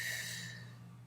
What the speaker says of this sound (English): So I want you to breathe in for me and breathe out.